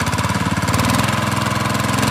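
A small petrol water pump engine runs steadily and loudly after its blackened spark plug was replaced and the throttle opened, giving a close, fast, even chugging that holds without pause.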